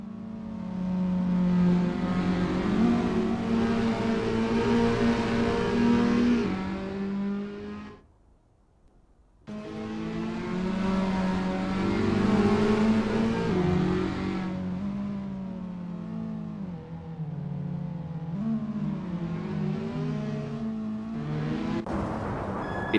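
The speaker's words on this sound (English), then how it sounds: "Each roar of the engine, each squeal of the tire is a chapter in this epic duel." A Toyota S-FR race car engine in Assetto Corsa roars through gear changes at Sendai circuit, loud and close, with rising and falling revs, one abrupt cut to near silence, and then sustained high-rev droning.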